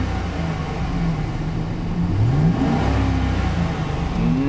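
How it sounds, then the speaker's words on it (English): A 2010 Chevrolet Silverado LS V8 engine revs up and down with a deep, rising roar, steady and close, with no talking. "Nice revving V8 engine there."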